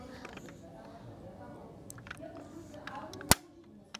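The trunk of a yellow toy Lamborghini with big wheels is opened, giving one sharp plastic click near the end after faint rustling and handling noises.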